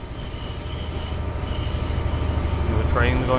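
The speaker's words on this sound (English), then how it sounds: "Another train going past there" A train passes in the Train Simulator 2020 video game, with a steady loud rumble and wheel squeal that swells toward the end.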